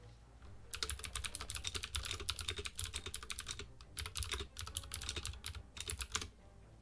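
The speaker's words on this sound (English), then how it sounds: "Apologies about my loud keyboard." A loud computer keyboard clacks in fast, dense bursts of typing with brief pauses between runs, close and crisp over a low background hum.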